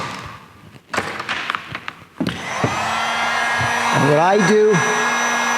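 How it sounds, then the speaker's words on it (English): A heat gun blows hot air over heat shrink tubing on a crimped wire lug in a van build, a steady whooshing hum that starts after a few thumps and handling noises while someone talks over it. "you get your heat gun"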